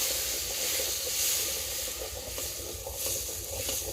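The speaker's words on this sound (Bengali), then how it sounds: "এটা এখন ভালোভাবে সব মশলা দিয়ে কষিয়ে নিবে" Fresh spice paste of ginger, garlic and cumin fries in oil in a village kitchen over a bamboo-wood fire, giving a continuous close sizzle and hiss with faint stirring clicks underneath.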